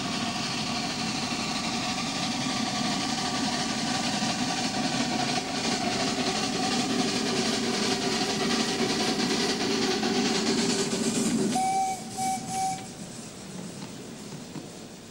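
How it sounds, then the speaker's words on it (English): Steam locomotive working on the Wayside Light Railway, a steady loud chuffing and mechanical rumble with clanking rail noise, then a brief whistle-like tone near the end as the sound eases. "Sir Robert has been in steam for some time now, and he's already hard at work."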